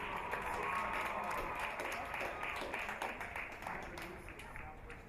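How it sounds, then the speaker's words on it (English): Crowd applause rises for the homecoming royalty at a 2012 SAGU versus Haskell college football game, a steady, fairly distant wash of clapping from the stands that eases slightly toward the end, with faint voices mixed in. "Let's give one last large round of applause for this year's homecoming royalty."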